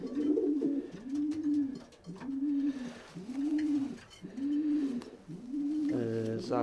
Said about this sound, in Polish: To jest młody gołąbek, roczny będzie teraz.